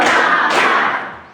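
A classroom of students claps together in unison, making two loud, broad bursts about half a second apart that ring out and fade away.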